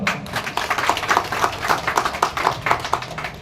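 A small gathering at a Swachh Bharat district committee event clapping to welcome a guest, a loose run of separate hand claps at an uneven rhythm, fairly close and moderately loud.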